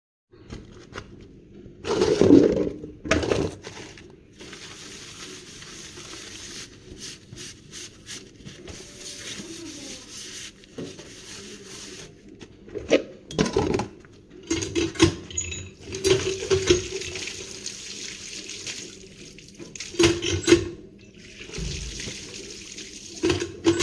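Water splashes and runs at a sink while a plate is scrubbed and washed by hand, with intermittent bursts of running water and clinks of dishware, fairly close and without talk.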